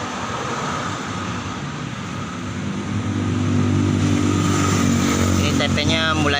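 Engine of a Honda Vario 125 fuel-injected scooter being revved at full throttle, a loud continuous roar that builds and rises in pitch toward the end, close by and heard alone.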